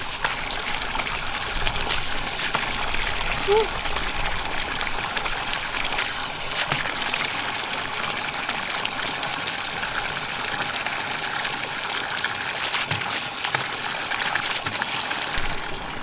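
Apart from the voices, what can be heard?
water rinsing off at a camp trough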